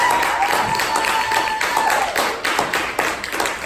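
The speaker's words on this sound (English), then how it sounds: "Let's give Jeff another round of applause." An audience applauds steadily, a dense patter of many hands clapping at moderate distance, with a faint tone and some voices mixed in.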